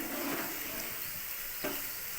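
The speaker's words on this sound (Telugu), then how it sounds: "మిక్స్ చేసుకొని ఈ మసాలాలో ఉన్న పచ్చివాసన అంతా పోయేంత వరకు ఫ్రై చేసుకుందాం" Masala frying in a pan for Guntur-style chicken curry gives a steady, close sizzle that holds for the whole moment, with a brief stir near the end and no talking.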